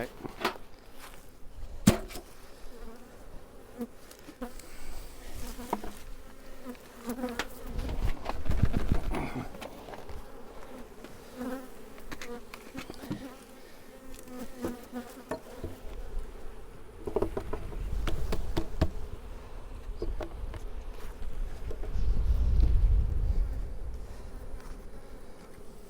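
Honey bees hum softly around a hive, a low, wavering drone with occasional louder buzzes as insects pass close, amid faint handling noises.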